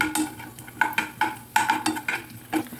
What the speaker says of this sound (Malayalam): നെയ്യ് ഒന്ന് ചൂടായി വരുമ്പോൾ കുറച്ച് കാഷ്യൂസ് അതിലേക്ക് നമുക്കിട്ട് കൊടുക്കാം.